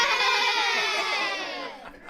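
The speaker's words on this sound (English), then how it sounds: "give us a big cheer" Group of children at an art camp cheering and shrieking together in a loud burst that trails off, mixed high voices with a crowd-like quality.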